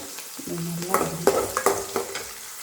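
Garlic sautés in a pan for a garlic-pepper gravy, a soft sizzle broken by several scraping stirs and clinks of a spoon against the pan, close by.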